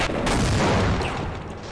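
Grenade blast and gunfire in the first-person shooter Half-Life: a dense, loud burst of explosive booming and rattling shots that fills the whole moment, with no talking.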